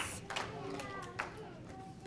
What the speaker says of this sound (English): Stomp your feet. Clap your hands.